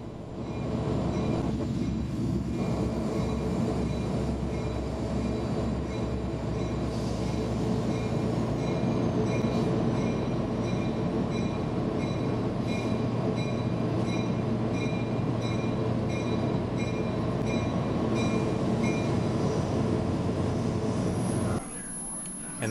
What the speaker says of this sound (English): Hey, look, a surprise freight train.